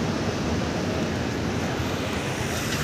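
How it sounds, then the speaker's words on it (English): Gagan Chukki waterfalls at Shivanasamudra in Mandya district, Karnataka, pour in a steady, dense roar of falling water that stays constant throughout, with no voices over it. "Gagan chuki waterfalls. Shiv Samudra, Karnataka."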